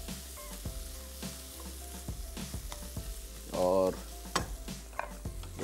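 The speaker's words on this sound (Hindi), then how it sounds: "और अब इसको थोड़ा सा फ्राई कर लेंगे" Rice with spices fries in a pan, crackling and sizzling up close with repeated sharp clacks of stirring against the pan and a brief louder sizzle surge midway.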